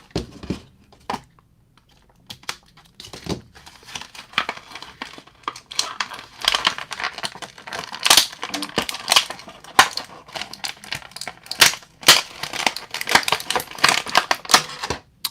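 She-Ra action figure being pulled out of its partly cut plastic blister packaging, a long stretch of close crinkling, crackling and sharp snapping plastic that grows busier and louder toward the end.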